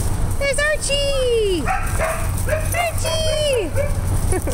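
Dog barking in a home, several yelping, whining barks in a row, loud and close, with a person talking between them.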